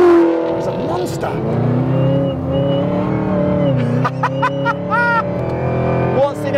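A Chevy Camaro ZL1 driven flat out on the Rockingham track roars loudly from close by, its engine note rising and falling through gear changes and throttle lifts, with brief sharp revs near the end.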